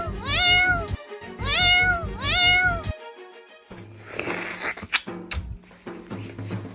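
Cartoon cat meowing loudly in three drawn-out, wavering calls close up, followed by a busier stretch of scratchy cartoon effects and faint background music.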